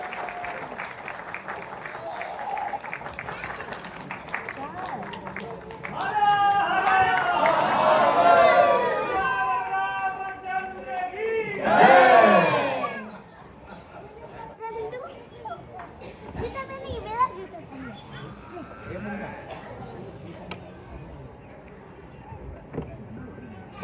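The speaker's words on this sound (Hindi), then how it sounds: "जोरदार तालियों से उनके स्वागत करिए।" Loud applause and crowd cheering swell at a Bhojpuri award ceremony as an award is presented, with a burst of clapping midway, murmuring chatter and an announcer's voice around it.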